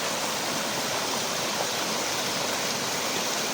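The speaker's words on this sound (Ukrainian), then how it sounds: "ці водоспади такі невідомі" A small waterfall in the Zhytomyr region of Ukraine rushes steadily and evenly from close by, filling the whole stretch with no pauses and no voices.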